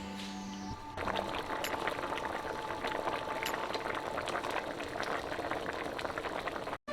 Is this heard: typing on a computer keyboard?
no